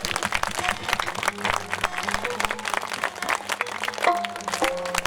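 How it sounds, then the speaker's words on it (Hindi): Loud, sustained applause and clapping from a large audience at a Bhojpuri Ram Katha religious storytelling gathering, filling the whole stretch with dense, continuous hand claps. "ताली बजाओ बढ़िया रे।"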